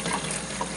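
Water runs from the outlet of an EcoSmart 5.5 kW tankless electric inline point-of-use water heater, a steady close hiss and splash with no talk.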